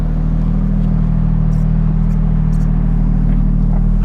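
A 1990s Toyota Cressida with a 1JZ engine swap, fitted with adjustable suspension arms, hums with a steady, fairly quiet low drone as it drives off, continuous and unbroken with no talking.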